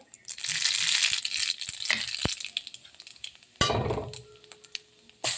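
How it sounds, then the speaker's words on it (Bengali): Radhuni spice seeds, added after bay leaf, hit hot oil for a shol fish and bottle gourd curry, with sharp sizzling bursts, a loud splutter partway through and light utensil clinks between quieter stretches. "তেল গরম হয়ে গেছে, দিয়ে দেবো রাঁধুনি।"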